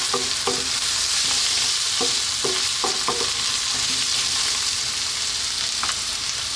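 Spiced potato curry with turmeric fries in a pan over high heat, a steady sizzle broken by a series of spoon scrapes and clinks as it is stirred often, with no talking.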